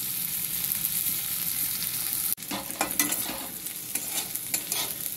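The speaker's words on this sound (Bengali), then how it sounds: "এরপর আমার মশলা ভাজা হয়ে গেছে" Green chillies and ground spices frying in a pan, a loud steady sizzle that breaks off briefly and resumes with scraping stir strokes and hissing bursts, close up.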